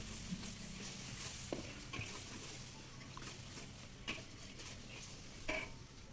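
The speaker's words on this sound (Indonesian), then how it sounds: "Tinggal diaduk-aduk sampai bumbunya matang." Spices for nasi kebuli, ground and mixed with cinnamon, star anise and turmeric powder, sizzle steadily in a pan while being stirred, with occasional soft scrapes and clinks of the utensil against the metal.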